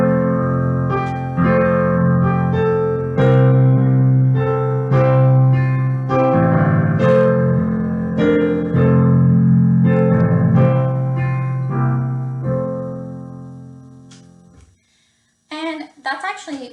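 A simplified hymn chord phrase played on a keyboard, with sustained chords moving steadily at a gentle pace. The sound fades out near the end before a short burst of other noise.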